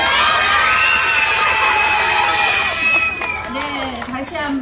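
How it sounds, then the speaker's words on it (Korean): Children at a community center's first anniversary concert in a café shout a long, loud, sustained cheer together, then it fades into chatter and scattered clapping. "우리 다 같이 큰 소리로 야! 하면서 박수 한번 칠게요"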